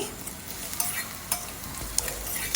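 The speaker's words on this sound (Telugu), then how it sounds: "ఈ నూనె వేడయ్యాక మూడు చిన్నగా తరిగిన ఉల్లిపాయలు అలానే మూడు పచ్చిమిరపకాయలు చీలికలుగా చేసుకుని వేసి వీటిని వేయించుకోవాలి" Finely chopped onions and slit green chillies fry in hot oil in a kadai, a dense continuous sizzle with scattered scraping stirs, close and steady without speech.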